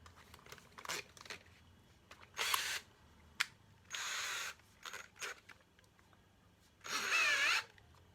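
Short bursts of a small power drill whirring on and off with a small bit loose in a poor chuck, several separate spurts with quiet gaps and faint clicks between them.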